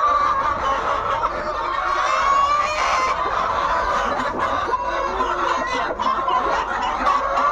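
Tiger chickens on a poultry farm cluck continuously, a dense overlapping chorus of hens and roosters close by, with no talking.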